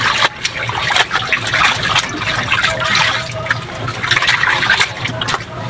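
Water pours steadily into a laundry basin, a loud, continuous splashing trickle with gurgling fill sounds, close by and unbroken.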